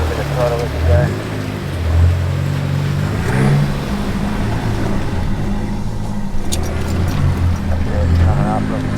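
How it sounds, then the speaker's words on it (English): A 4WD engine revs and labours as the vehicle climbs an obstacle, a loud low drone rising and falling, with people talking over it. "give it a little bit of throttle as you go"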